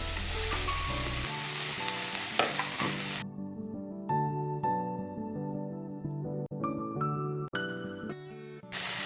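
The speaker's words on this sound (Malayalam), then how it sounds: "ഇതിലേക്ക് മുറിച്ച് വെച്ച തക്കാളി കൊടുക്കാം" Chopped tomatoes dropped into a hot pan with cashews for paneer butter masala. A loud, close sizzle and stirring are heard at first, then clear ringing tones with sharp onsets continue over the frying.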